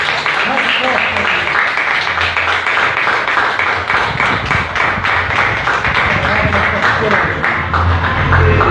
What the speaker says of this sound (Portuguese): Vamos dar uma salva de palmas bem forte.